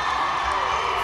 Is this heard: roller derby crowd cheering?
yes